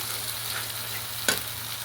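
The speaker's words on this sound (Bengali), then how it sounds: "ভালো করে এটা নাড়াবো। ভালো করে ভেজে নিতে হবে মশলাটাকে।" Spiced tomato paste with tomato purée fries steadily in a pan as it is stirred, a continuous soft sizzle with one brief louder scrape of the spoon partway through.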